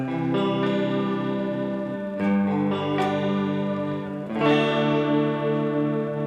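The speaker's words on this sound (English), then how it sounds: "Because you can hear the flutter." Electric guitar played through a Boss CH-1 chorus pedal, its sustained chords wavering with a fluttering chorus shimmer, with fresh picked or strummed attacks near the start, the middle and toward the end.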